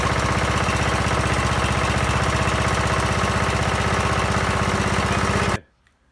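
Rebuilt small lawn mower engine running steadily at a loud, even putter for several seconds, then cutting off abruptly into near silence.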